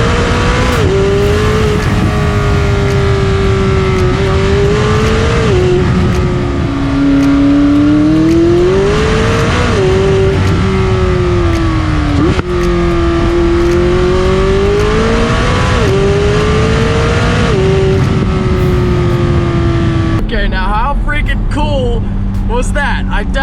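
A McLaren 600LT supercar accelerates hard on back roads, its loud engine note climbing and dropping through repeated upshifts over about twenty seconds before cutting off abruptly near the end.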